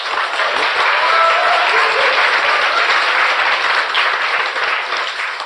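A studio audience claps loudly and continuously, a thick, even roar of applause close to the listener that holds steady throughout with no voices rising above it.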